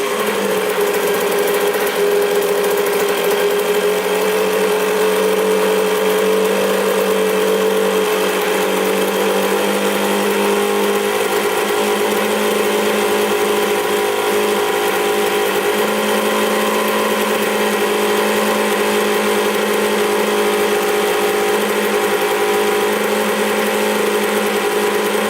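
Kawasaki KX125 dirt bike engine with a suspected air leak or carburetor problem, running continuously with a loud, buzzing two-stroke whine at a steady, high idle that does not drop, close up and without talk.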